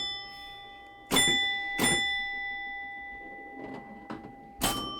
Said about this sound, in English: all these 10 points or 100 points that were ringing, like that one